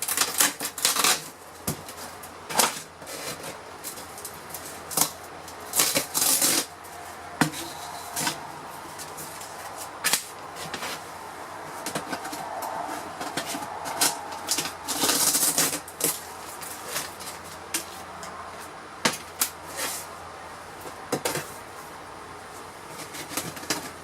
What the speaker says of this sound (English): All I have to do is tear off the laminate.